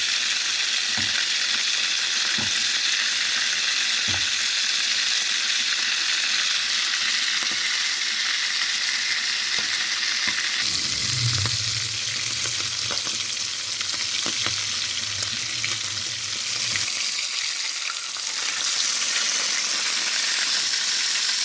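Beef steak frying in butter in a pan gives a loud, steady, close sizzle that hisses continuously throughout, with a faint low hum appearing briefly partway through.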